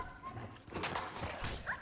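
A dog whimpers and yips in short, whiny bursts during Fallout 4 gameplay, fairly close and moderately loud over a busy game background.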